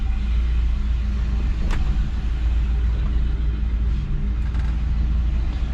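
A 1966 Ford Galaxie 500 convertible idles steadily in neutral while warming up, with a constant low rumble and no change in pace.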